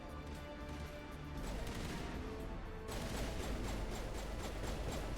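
Rapid bursts of video-game gunfire in Mass Effect crackle continuously, swelling louder in the second half as the fusillade intensifies.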